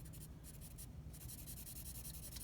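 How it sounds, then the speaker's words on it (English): The side of a charcoal pencil rubs steadily across textured art paper, making a soft continuous scratchy shading sound in close, faint strokes. "I'm just using the side of my charcoal pencil to come in."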